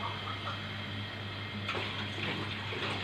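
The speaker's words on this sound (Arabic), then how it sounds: "على كوبايه ونص ميه" Water poured into sugar in a pot for basbousa syrup, a steady splashing pour with a low hum beneath it.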